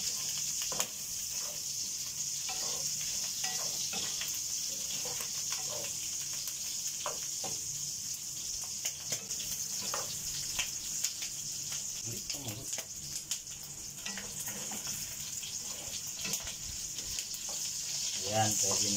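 Ingredients for ginataang laing fry until browned, giving a steady sizzle with scattered clinks and scrapes of stirring, fairly close, while a voice talks quietly now and then.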